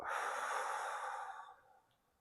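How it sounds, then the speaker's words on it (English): A long, slow breath out during a gentle seated breathing exercise, a soft airy rush close to the microphone that fades out over about two seconds, with no talk. "Breathe out."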